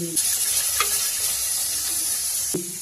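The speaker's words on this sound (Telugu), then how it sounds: "టమాటాలు బాగా మెత్తగా అయ్యే వరకు వేయించుకోవాలి" Tomatoes fry in a pan with a continuous close sizzle and a couple of brief stirring scrapes.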